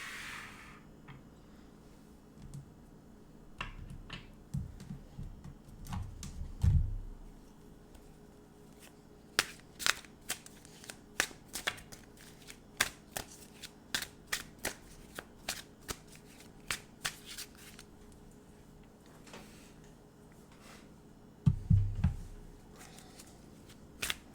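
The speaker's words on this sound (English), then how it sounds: "We'll pull some cards and see if we can't get some clarity about this." Tarot cards are shuffled in a quiet room: repeated crisp riffles and sharp snapping cuts come in scattered bursts, with a few soft thumps of the deck being handled.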